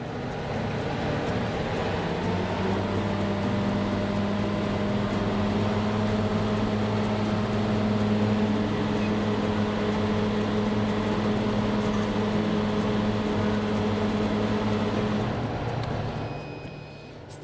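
KDD 941 STH disc mower driven by the tractor's PTO shaft at 1,000 RPM, a steady loud mechanical hum with constant tonal whine that holds evenly for about fifteen seconds before dropping away at the end.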